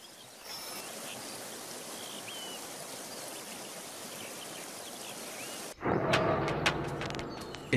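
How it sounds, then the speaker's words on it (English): Rushing river rapids on Alaska's McNeil River roar in a steady broadband wash, then give way abruptly to a closer, brighter splashing of water. "At rapids like these, on Alaska's McNeil River"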